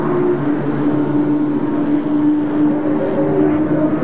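A 1984 racing motorcycle ridden in Australian competition rolls into the pit lane and comes to a stop, its engine holding a steady low drone that stays loud and even throughout, with no talk over it.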